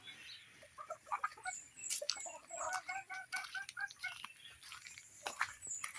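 Chickens cluck softly in short bursts, with scattered chirps and some faint background noise.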